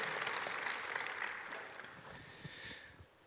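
A Korean church congregation applauds the high school praise team after worship, a soft, fairly distant round of clapping that thins out and fades toward the end.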